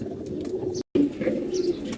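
A silver pigeon gives a steady, low, rolling coo that carries on almost without pause, close and moderately loud, with no voices.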